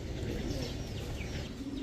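Pigeons coo softly at a seller's stall, where a chocolate Gorra pair is among the birds, the low throaty calls rolling continuously against a dense murmur of background noise.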